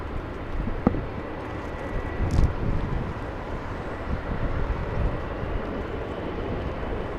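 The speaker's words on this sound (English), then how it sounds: "We have a heavy departure. That is a Dreamliner." A heavy United Airlines Boeing 787-10 Dreamliner departs Los Angeles International Airport, its engines a steady broadband roar with wind buffeting the microphone, distant and constant, with no voices.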